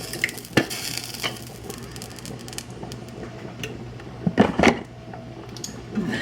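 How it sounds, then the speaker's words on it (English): Vodka sauce for rigatoni is stirred gently in a pan, giving soft, wet squishing and low sizzling with a few scraping clinks of the utensil that bunch up near the end, and no talking. "Mix that in very gently."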